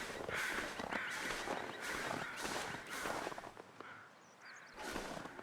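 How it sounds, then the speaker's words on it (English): Crows cawing in the snowy wilderness video game The Long Dark, a series of repeated harsh caws in rhythmic bursts over a constant windy background, moderately distant. "I think those crows were just flying by."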